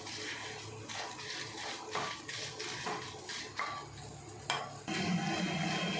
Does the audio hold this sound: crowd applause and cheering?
no